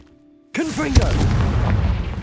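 A Confringo blasting spell goes off in Hogwarts Legacy, a sudden loud boom that cuts in after a moment of near silence. Swooping magical tones follow, then a sharp crack and a rumbling tail that slowly decays.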